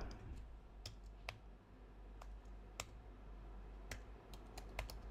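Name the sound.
typing on a computer keyboard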